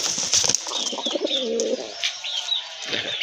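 Domestic pigeons coo with low throaty repeated calls close by, mixed with faint chirps and rustling from a pigeon seller's flock of local birds, and no talk.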